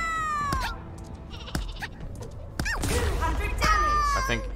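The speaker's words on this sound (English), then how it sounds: "Oh no, it's a bunch of sheep." Sheep bleat several times in the video game Worms Rumble, wavering high cries at the start and again toward the end, mixed with sharp crashing bursts and game effects.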